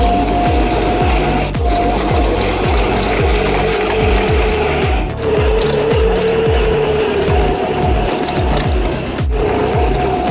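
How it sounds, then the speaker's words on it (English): A Comptech Crambo 6000 stump grinder chews through wood with a loud, continuous mechanical churn. Steady rhythmic low thuds run underneath, with no voices. "In the world of stump grinders, it's not just a machine, it's the last word on raw grinding power."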